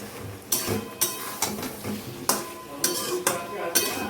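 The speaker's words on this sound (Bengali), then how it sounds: "তারপরে আস্তে আস্তে মাংসটাকে ভালো করে কষতে থাকবো" Meat tossed with spices in a pan, with a spatula scraping and clanking against the metal in uneven strokes over a low background sizzle.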